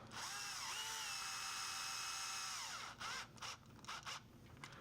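Small electric screwdriver whirs with a rising then falling motor whine, loud and close, running steadily for about three seconds before a few short bursts, used on a Tonka Jeep TRX-4M conversion.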